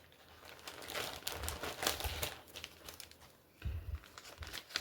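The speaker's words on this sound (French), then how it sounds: "je vais sortir mon petit papier pour vous montrer" A small sheet of paper being pulled out and unfolded, with soft crinkling and rustling in uneven bursts, close and quiet, and no talking over it.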